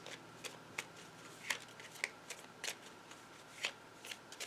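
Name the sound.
tarot cards being shuffled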